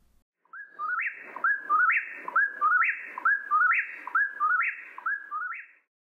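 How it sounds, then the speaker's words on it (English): Eastern whippoorwill calling its whistled three-part phrase over and over, about seven clear, rhythmic repetitions in quick succession, fairly close and alone. "Here is the sound of the eastern whippoorwill."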